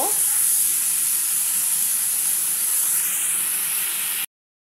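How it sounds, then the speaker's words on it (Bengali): Flat beans and brinjal frying in a pan, a steady loud sizzle with bright spitting hiss that holds evenly for about four seconds before cutting off. "এবার আমি এখানটা এই সিম আর বেগুনটা ভাজা করে নিই বন্ধুরা।"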